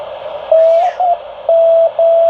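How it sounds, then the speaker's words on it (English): Morse code beeps from a CW radio signal, unfiltered, as a steady single tone, short and long pulses loud and clear over a low background hiss. "that's what it sounds like on CW without a filter"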